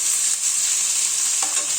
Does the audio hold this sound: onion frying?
yes